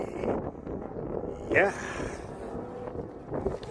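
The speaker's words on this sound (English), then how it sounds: "it's windy" Gusty wind buffeting a phone microphone outdoors, rough low rumbling in uneven bursts, with a brief spoken reply and other voices over it.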